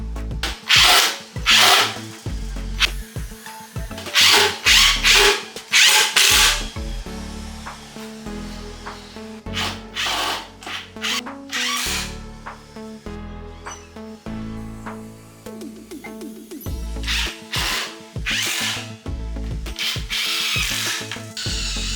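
A power drill drives 2.5-inch pocket screws into a glued, corner-clamped wooden seat frame for patio furniture, in repeated close bursts of whirring with brief pauses between screws.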